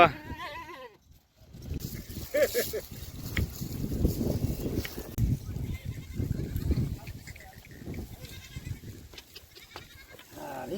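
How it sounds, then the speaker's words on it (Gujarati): Sheep and goats bleat briefly at the start at a farm plot, then a steady outdoor rustle and shuffling noise continues with occasional voices in the background. "ઓ બકરા બકરા"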